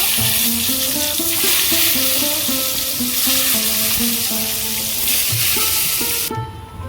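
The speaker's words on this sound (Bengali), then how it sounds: "বাকি বেগুনগুলো ভেজে নেব" Eggplant slices fry in hot oil in a pan, giving a loud, steady sizzle that runs throughout, with melodic background music underneath.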